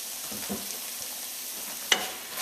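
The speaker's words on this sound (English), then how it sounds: "Give that a stir, and I'm going to let that go, like I said, for another 5 to 10 minutes." Collard greens cooked the Caribbean way in a pot, with a soft steady sizzle and a couple of brief stirring scrapes, one sharper near the end.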